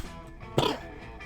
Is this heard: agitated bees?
no